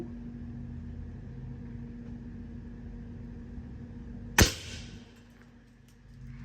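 Against a low background hum, one sharp, sudden crack of a 40-joule Hatsan 125 PRO QE air rifle shot rings out, followed by a brief fading hiss.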